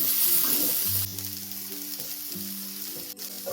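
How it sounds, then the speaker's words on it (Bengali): Eggplant sizzles steadily as it fries in a pan, with fried neem leaves going in for a traditional neem begun dish; a continuous close frying hiss with soft stirring, no voices. "বেগুনটা ভালো করে আমি ভাজা ভাজা করে নিলাম এবার ভেজে রাখা নিম পাতাগুলো এর মধ্যে দিয়ে দেবো"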